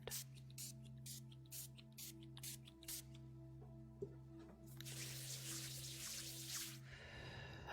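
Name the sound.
spraying orange blossom scented mist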